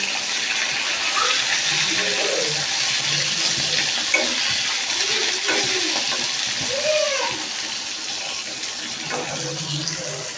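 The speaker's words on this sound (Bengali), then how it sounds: "এখন ওই পিঠটা আরেকটু সুন্দর করে ভেজে নিই" Fish frying in a pan in a home kitchen, being browned on its second side: a steady, dense sizzling hiss that carries on throughout, close up, with a faint voice now and then underneath.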